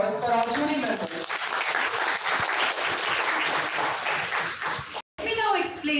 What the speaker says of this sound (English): Let's have a big round of applause for our jury members.